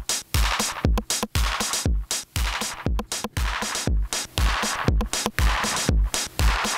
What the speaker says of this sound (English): So that's the sound of the Wampler Ego, I think dialed in to sort of maximum squish.